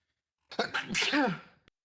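A single sharp sneeze bursts out, fairly close and clear, preceded by a quick inhale and trailing off into quiet.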